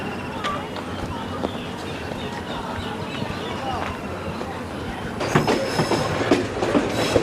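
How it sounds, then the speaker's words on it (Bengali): Bijoy Express pulling out of Gouripur Junction in the evening, a steady rolling rumble with rail clatter that grows busier and louder near the end, with a voice talking over it. "এই যে বিজয় এক্সপ্রেস কিন্তু ছেড়ে যাচ্ছে গৌরীপুর জংশন থেকে"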